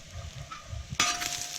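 Corn tortilla chips fry in olive oil on an outdoor cooking disc. Soft low stirring scrapes give way to a sudden bright hiss of sizzling that carries on steadily close by.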